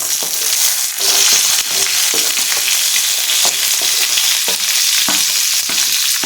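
Dried red chilies, ginger pieces and onions frying in oil for an onion chutney, with a loud, dense, continuous sizzle and intermittent spatula stirs running through it, close up and with no speech.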